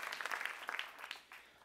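Brief burst of audience applause at an awards gala, greeting a winner; dense clapping at moderate level, fading slightly toward the end.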